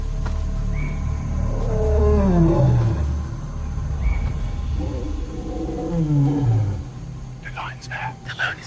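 A lioness roars nearby in the African bush, heard as two long, low, descending roaring calls spaced several seconds apart over steady background noise, with someone talking quietly in between.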